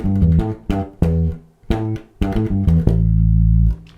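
On bass guitar, a funk groove for a B section bounces through quick stabbing notes and small rests, ending on one long sustained low note, close and unaccompanied.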